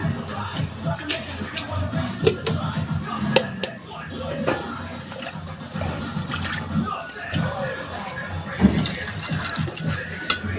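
Water splashes and trickles as it is poured from a jar into a pot in a kitchen, with clinks and a voice talking over it throughout.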